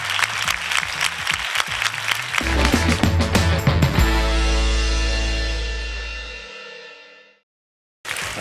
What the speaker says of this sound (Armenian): Շնորհակալություն, ծափարում ենք բարձր հաղթողներին և իհարկե Ավետ Բարսեղյանին։